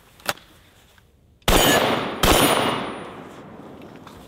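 A sawed-off double-barrel shotgun fires mini shells: two sharp, loud blasts about a second apart, each ringing out in a long decaying echo, with a faint click before them.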